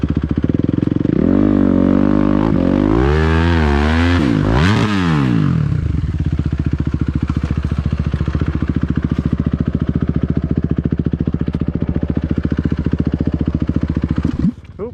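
A KTM 150 XC W TPI two-stroke dirt bike revving hard with the clutch slipped in first gear, rising and falling engine pitch, then settling into a steady rapid putter close by.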